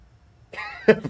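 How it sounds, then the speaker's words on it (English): A dying man coughs a few times in quick succession in a video game, Metal Gear Solid 4, rough and wheezy, close up with silence before it. "He sounds like he's got some dying coughing"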